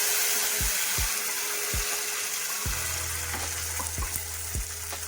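Ground vegetable masala sizzles steadily in hot oil over a cumin and mustard seed tempering, with a dense continuous hiss and several low knocks and scrapes of a spoon against the pan.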